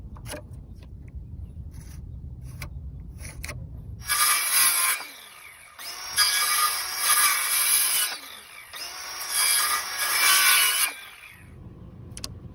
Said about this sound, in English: made a few passes, while chiseling away